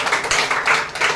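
An audience at a career event gives a short burst of close, dense applause, with a brief lull in the middle.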